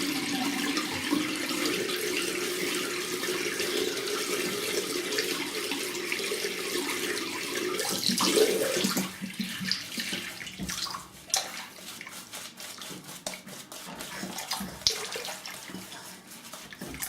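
Warm water runs from a tap, a continuous rushing splash that stays steady and fairly loud for most of the stretch, then drops away to quieter trickles and small clatters.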